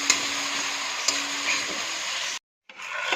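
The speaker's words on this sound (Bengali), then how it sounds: "এটা সুন্দর কষিয়ে নেব।" Onion paste sautés in a pan for a boal fish head and eggplant ghonto, making a steady close sizzle with a few light stirring clicks. The sound cuts out briefly, then resumes.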